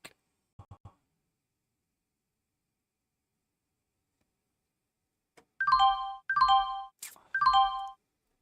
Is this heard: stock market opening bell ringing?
yes